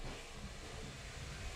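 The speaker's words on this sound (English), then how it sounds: "That is a Hoover or a vacuum cleaner." Hoover vacuum cleaner running in the background of a room during a music mixing session, a steady broadband hiss-like roar, constant and moderately loud, with no voices.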